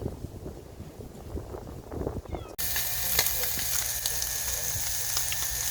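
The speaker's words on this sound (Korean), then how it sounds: "도모 볶고 있습니다. 옛날에는 숯불에 구웠는데 지금은 뭐 프라이팬에 그냥 구지요" Freshly caught sea fish frying in a frying pan: after a quiet, muffled opening, a loud, steady sizzle suddenly starts and keeps going close by.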